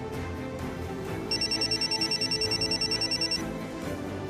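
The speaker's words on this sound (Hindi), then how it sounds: "आई थिंक फोन बज रहा" Telephone trilling in rapid electronic bursts for about two seconds against a quiet room background, moderately close.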